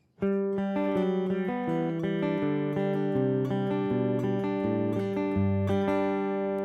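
A clean electric guitar plays a descending walking bass line, single low notes stepping down steadily with a few higher notes mixed in, no talking.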